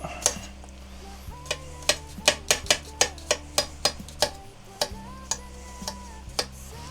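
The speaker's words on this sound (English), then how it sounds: "all I'm going to do now, without slicing my fingers off, hopefully, chop a bit of garlic" A knife chops garlic on a cutting board in a home kitchen during stir-fry prep, giving a quick run of about sixteen sharp, evenly spaced close taps with a short pause partway through.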